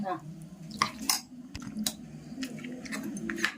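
A spoon clinks and scrapes in a bowl as a yogurt and carrot curry is mixed, giving irregular metallic taps and soft squishing under a low background hum.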